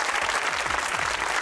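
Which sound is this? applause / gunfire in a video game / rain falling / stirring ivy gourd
applause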